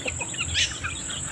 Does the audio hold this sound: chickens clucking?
yes